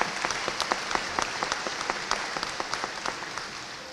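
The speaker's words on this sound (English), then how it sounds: "give him a round of applause" Steady applause from a college commencement crowd honoring the alumni association president, many hands clapping in a continuous, moderately loud wash with a few sharper claps standing out near the front.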